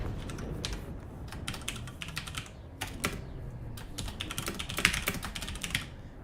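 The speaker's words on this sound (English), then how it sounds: "There's my noisy keyboard." Fast typing on a noisy computer keyboard during a PC gaming session, a rapid, irregular patter of sharp key clicks over a low background hum, close and fairly quiet, with no talk.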